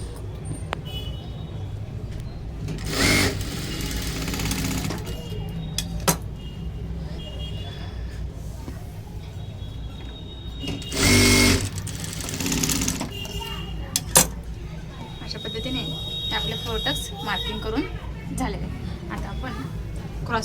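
A sewing machine stitches a size-36 four-tuck blouse in two short, loud bursts of whirring, with a person talking steadily over the hum and rustle of the room.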